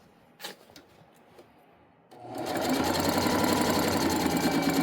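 After a few quiet clicks and handling sounds, a sewing machine starts up and runs steadily at speed, stitching around the top of a canvas tote bag, close and continuous with no talking.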